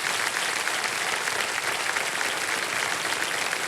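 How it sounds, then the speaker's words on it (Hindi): Continuous heavy clapping rises from the studio audience of Kaun Banega Crorepati, a thick, even wash of applause that holds at full strength throughout. "बधाई बधाई बधाई। तालियां बज जाएं।"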